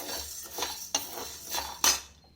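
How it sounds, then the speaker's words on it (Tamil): Black urad dal dry-roasts in a pan, with a spoon scraping and clinking against the metal in a few separate strokes over a soft hiss, close and fairly quiet. "இப்போ நான் வந்து கருப்பு உளுந்தை நல்லா வறுத்து எடுத்துக்கிறேன்"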